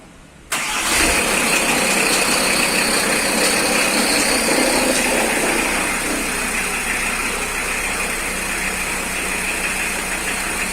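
A VW Transporter T4 with a 2.4 five-cylinder engine fires up after a timing belt job, then settles into a steady, loud, close running drone that continues to the end.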